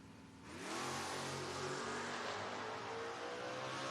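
At a footbrake drag race, a 1986 Mustang and a Corvette rev hard on the line. A loud, sustained engine roar swells after a brief quieter start and holds steady, with no voices.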